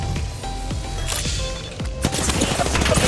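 Gunfire in the video game Apex Legends, a scattered burst of sharp shots rising over steady background game noise, loud and close, building toward a denser volley at the end.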